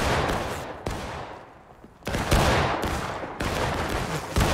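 Battlefield gunfire in the Civil War video game War of Rights: loud, crackling volleys of many overlapping shots, fading into a short lull before heavy firing resumes and continues.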